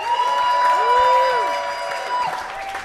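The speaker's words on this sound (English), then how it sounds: "how about a round of applause for the winner of the 2018 Polaris Music Prize" An audience applauds and cheers for the winner of the 2018 Polaris Music Prize, with clapping and crowd noise mixed under a sustained tonal music bed and some talk.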